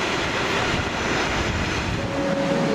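A Swedish SJ passenger train bound for Oslo pulls into platform 10 at a station, a steady loud rumble of wheels and engine filling the air, with a faint tonal whine rising near the end.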